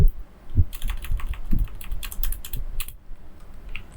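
Rapid clicking of a computer keyboard while Python code is being deleted, close and crisp keystrokes in quick bursts with a short pause near the end.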